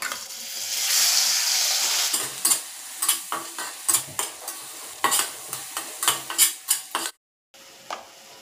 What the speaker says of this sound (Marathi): थोडासा गरम मसाला, हे परत तेलात व्यवस्थित परतून घ्यायचं